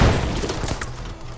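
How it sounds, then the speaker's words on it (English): Pipe bomb explosion in a combat scene of an audio drama: one loud, deep blast that hits at once and then fades into a rumbling decay. "Pipe bomb! Get down!"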